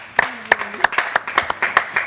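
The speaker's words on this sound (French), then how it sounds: "Applaudissements, s'il vous plaît" Scattered, individual claps from a modest studio audience at a talk show, each slap distinct and spaced, with faint voices underneath.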